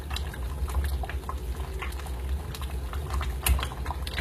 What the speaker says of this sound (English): because I'm going to lower the heat, because it is popping everywhere right now.